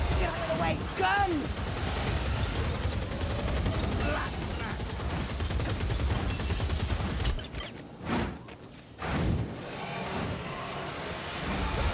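Gunfire and explosive blasts from the Warhammer Vermintide game, a dense loud barrage with a sharp crack near the end, heard under game voices and battle noise.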